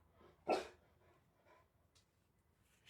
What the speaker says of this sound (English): See, my poor dog, how do you go from being such a bully, like he's such a bully dog, to being such a wuss when it thunders?